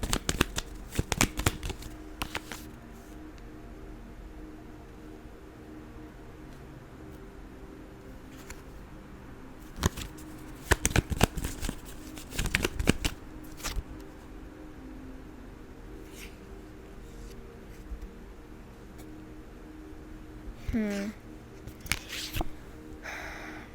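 A deck of tarot cards is shuffled close by in a quiet room, with bursts of riffling and flicking card sounds separated by pauses and a few soft handling noises, with no talking.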